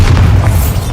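Bombarda spell blast in the Hogwarts Legacy video game, a loud, sustained low booming rumble with a few pops layered over it, filling the whole second without a pause.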